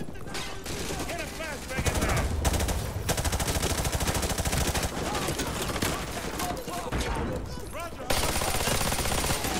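Rapid automatic gunfire rattles in Call of Duty: Modern Warfare 2 Remastered, in loud sustained bursts with brief gaps, while voices talk over the combat.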